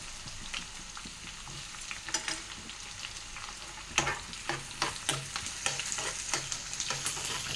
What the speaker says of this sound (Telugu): వెల్లుల్లిపాయ గర్భాలు వేస్తున్నాను. కొంచెం కరివేపాకు కూడా వేస్తాను.